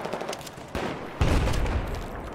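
Bursts of automatic gunfire in a Battlefield 4 multiplayer match, shots crackling fairly close with a heavier, louder volley about halfway through, continuing without pause.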